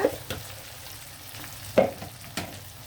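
Grated raw mango cooking in oil for a garlic mango pickle, a faint low simmer broken by a few distinct spoon scrapes and taps, spaced unevenly.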